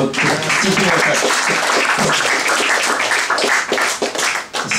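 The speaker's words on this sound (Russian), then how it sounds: "давайте ему похлопаем просто вот тихонько" An audience at a round-table discussion applauds, a dense steady patter of many hands clapping close and continuously, with a murmur of voices beneath and a slight dip near the end.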